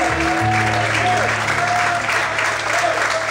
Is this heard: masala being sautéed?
no